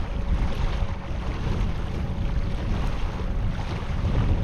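Kayak pushed along by a Newport NK180PRO electric trolling motor across choppy water, heard as a steady, loud wash of water and wind buffeting the microphone, continuous with no voices.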